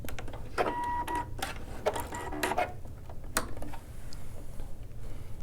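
A sewing machine back stitches a welt pocket in a few short bursts, its needle ticking and clattering rapidly up close before pausing.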